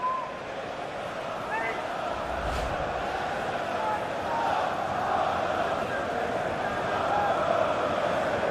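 Frustrated football crowd in the video game FIFA 16 during a UEFA Europa League quarter-final, a steady dense stadium roar with whistling and jeers throughout, under continuous commentary.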